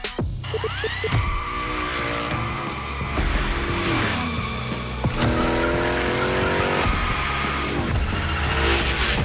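Tires squeal and skid as a car slides through gymkhana drifts in The Crew Motorfest video game, long shrill screeches over a steady roaring engine, loud and close throughout with no talk.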